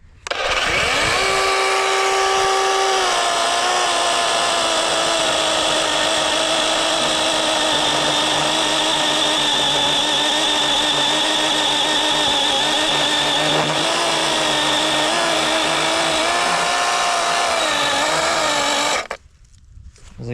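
A Dewalt chainsaw makes an upcut through wood, its loud, steady engine whine held for about 19 seconds as the chain bites, then cutting off abruptly near the end.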